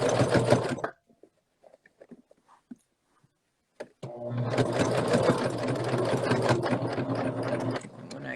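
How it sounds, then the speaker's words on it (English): A sewing machine stitches fabric for a medical mask in two bursts of loud, fast mechanical whirring, separated by a quiet pause with small clicks and handling noises. "I'm going to increase the stitch length so it actually pulls the fabric through the machine."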